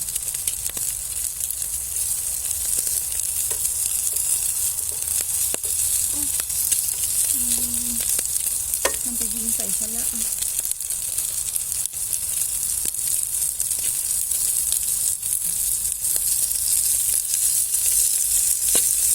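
Fish grilling outdoors in the snow in Poland gives off a steady, loud, dense hiss that carries through the whole stretch, with a few faint knocks and brief squeaky sounds near the middle.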